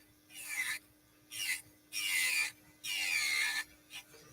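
An electric nail file spinning at about 8,000 RPM on gel nail extensions, heard in several separate close bursts of high whirring grind, with short quiet gaps between passes.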